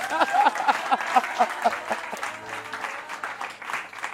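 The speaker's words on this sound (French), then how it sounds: "Est-ce qu'on peut acclamer?" Audience applause at a French Christian worship talk event, a burst of clapping from a crowd that swells and then tapers over a few seconds, with some voices mixed in.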